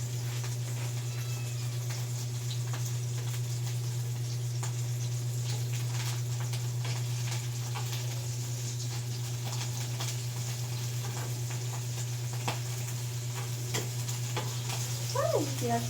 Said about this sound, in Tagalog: Tinalsikan ako ng mantika.